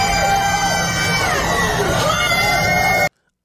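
A loud crowd cheers and shouts at an arrest, with sirens wailing over it, continuous for about three seconds before cutting off abruptly.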